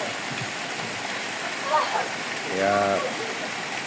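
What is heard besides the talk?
water flowing out at Kabuayahan falls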